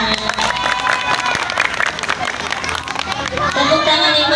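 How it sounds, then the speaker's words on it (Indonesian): Crowd at an Isra Mi'raj celebration applauding loudly and continuously, with cheering and children's voices blended into the steady clapping. "Tepuk tangan yang meriah untuk Nabila"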